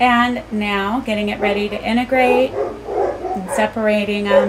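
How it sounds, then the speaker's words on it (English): Dogs bark in the background under continuous close male speech, a few yips and woofs mixed in among the talking. "sorry about the dogs"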